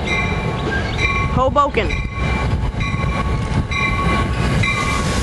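An NJ Transit commuter train rolls past close by near Hoboken, its steady rumble and wheel noise filling the clip with a brief horn-like tone partway through, while people chat over it.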